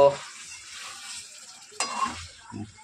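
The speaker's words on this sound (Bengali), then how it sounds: "মাংস কষছে, কি সুন্দর কালার এসছে দেখো।" Meat stir-fried (kosha) in a pan, with a soft continuous sizzle and occasional scraping stir strokes, under faint talk.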